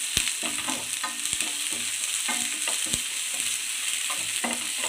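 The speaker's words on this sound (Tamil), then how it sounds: "இந்த எண்ணெயில் நல்லா இதை வந்து பொரிக்கணும்." Ginger garlic paste sizzles steadily in hot oil for a restaurant-style garlic chilli chicken, with a spoon clicking and scraping the pan in a loose stirring rhythm, close and with no talk.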